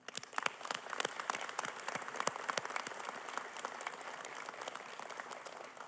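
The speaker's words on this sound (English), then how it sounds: "I want everybody to give you a hand of applause." Audience clapping for families at a community gathering, a fairly quiet, sparse patter of applause with individual claps popping out, fading slightly toward the end.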